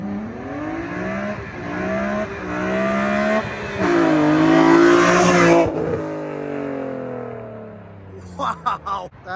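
A tuned car with an aftermarket exhaust makes a flyby, its engine note climbing loud as it revs past, then fading, followed by a few faint clicks near the end.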